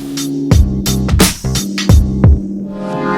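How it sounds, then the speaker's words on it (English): Thousands of bees swarm outdoors with a loud, steady, drone-like hum that fills the whole clip, broken by a few sharp bumps and rustles close by. "You know all this humming that we can hear? I thought it was somebody flying a drone, but it's actually thousands of bees."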